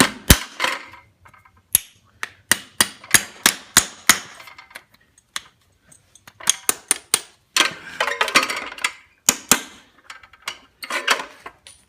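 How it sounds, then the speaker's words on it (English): A farrier drives size 4.5 nails into a slider shoe on a young filly with a small hammer, ringing metallic taps in quick bursts of strikes separated by short pauses, close and loud. "we're just using a hammer that's just big enough to drive them."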